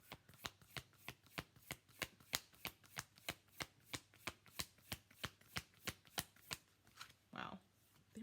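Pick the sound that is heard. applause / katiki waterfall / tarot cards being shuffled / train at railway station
tarot cards being shuffled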